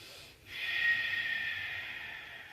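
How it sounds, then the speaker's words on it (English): A deep, steady breath during a teen yoga session, heard as a close airy hiss that swells after a brief pause and holds evenly for about two seconds. "Let's take a nice deep breath."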